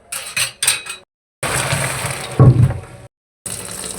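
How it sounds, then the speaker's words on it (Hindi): Boiled macaroni pasta is drained through a strainer, with water splashing and pouring in short bursts broken by brief silences. The water is close and fairly loud, with a heavier gush near the end. "अब हम लोग इसको छान लेते हैं।"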